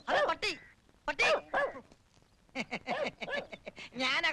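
A guard dog behind a gate in a Malayalam comedy film scene gives short, sharp barks in quick bursts with pauses between them, mixed with nearby voices.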